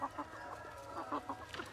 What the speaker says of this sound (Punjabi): ਇੱਥੇ ਇੱਕ ਮੁਰਗੀ ਬੱਚੇ ਵੀ ਲਈ ਫਿਰਦੀ ਸੀ